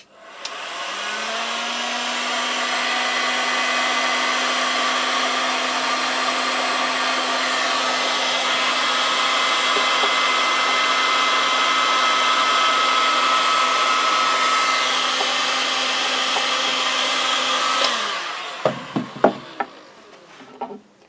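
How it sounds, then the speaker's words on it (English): A heat gun blows a steady, loud whirring hiss while stripping paint from a Watkins Rapier 33 sailboat, running continuously for most of the time before cutting off, followed by a few knocks and scrapes. "So we're just starting with our heat gun here, and we'll just see how the paint starts to react to this."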